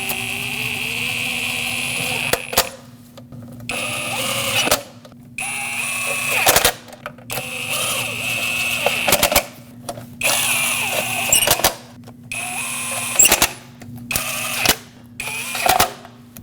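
Knock sensor bolts on a Lexus IS250 being tightened with a power tool, heard as repeated bursts of whirring and rattling, each lasting about one to two seconds with short pauses between, close and fairly loud, with no talk.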